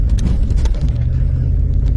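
A 4x4 car drives on a snowy road during heavy snowfall, giving a steady, close, low engine and road rumble throughout with no speech.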